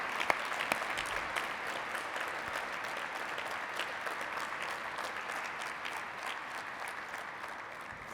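Audience applause at the Mountains to Sound Greenway annual dinner, a dense, steady crowd clapping that runs through the whole stretch at fairly low level, slowly tapering toward the end.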